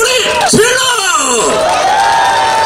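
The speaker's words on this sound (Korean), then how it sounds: "박수! 소리 질러!" Church talent-show audience cheering, whooping and yelling loudly as a crowd at an anniversary festival, a dense continuous roar with rising shouts throughout.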